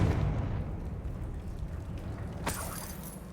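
Spell blast from the Confringo fire spell in the Hogwarts Legacy game, a single sharp burst landing late after a low rumbling game soundscape, fairly loud with no talk over it.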